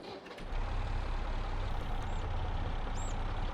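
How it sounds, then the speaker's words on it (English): A tractor engine in Farming Simulator 22 starts and then holds a steady low idle rumble, with a couple of short electronic chirps over it. "Anyway, engine on,"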